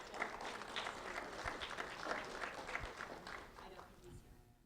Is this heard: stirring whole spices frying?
no